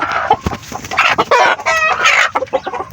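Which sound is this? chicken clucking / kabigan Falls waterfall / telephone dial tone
chicken clucking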